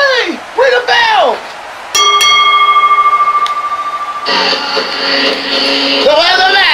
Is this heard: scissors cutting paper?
no